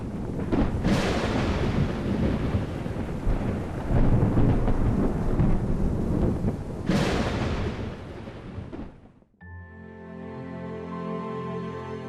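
Thunder crashing out of a cloudless dry sky over a remote wild highland: two long, loud rolling rumbles, the second swelling near seven seconds, before the storm noise cuts off and music takes over.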